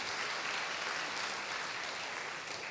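An audience at a book festival conversation applauds, with dense, sustained clapping from many hands filling the hall at an even level throughout.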